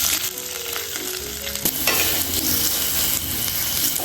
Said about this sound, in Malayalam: എന്നൊരു മീഡിയം സൈസിലുള്ള സവാള മുറിച്ചിട്ട് ഇട്ട് കൊടുക്കാം.